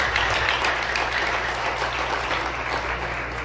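A church congregation applauds in a steady, dense wash of clapping that fills the room, sustained and fairly loud without a break.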